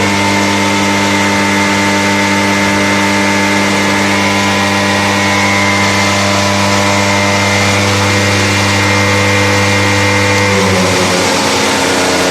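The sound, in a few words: IC engine running at 10% load in lab experiment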